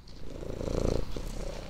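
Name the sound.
cat Mounette purring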